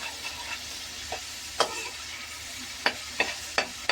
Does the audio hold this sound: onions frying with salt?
yes